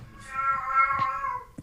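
A cat gives one long, drawn-out, agitated meow while playing soccer, close and fairly loud, ending in a short thump.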